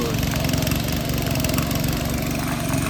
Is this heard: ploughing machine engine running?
yes